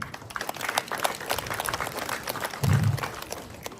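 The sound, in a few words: village audience round of applause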